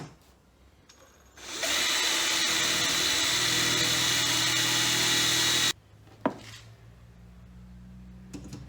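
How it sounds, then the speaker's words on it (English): A power drill drives steadily into the wooden frame of a homemade fishing seat box for about four seconds, loud and close, then stops, followed by faint handling knocks. "Push against the back plate to keep everything straight and then just drill down."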